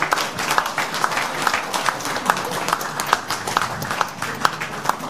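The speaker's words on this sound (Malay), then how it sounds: "Kita beri tepukan paling gemuruh kepada kedua-dua yang berbagai Tun" An audience at a forum applauds steadily for several seconds, with dense overlapping claps and a faint murmur of voices underneath.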